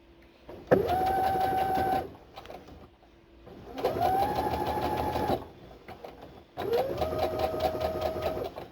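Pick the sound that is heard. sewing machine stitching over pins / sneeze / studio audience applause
sewing machine stitching over pins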